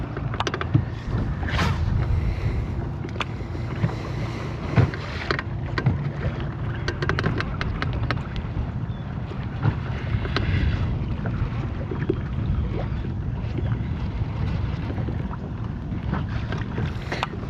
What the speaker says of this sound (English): the wind's blowing in this direction